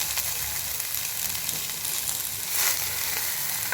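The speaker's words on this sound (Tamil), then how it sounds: "இப்போ இதில் நம்ம கருவேப்பிலையை சேர்த்துக்கலாம்." Curry leaves fry in a pan with lentils for pirandai chutney, a constant crackling sizzle that swells briefly louder partway through, close up with no talking.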